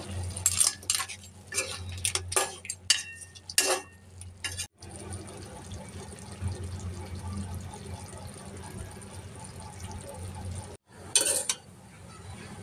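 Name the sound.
mixing crab claws into the curry while cooking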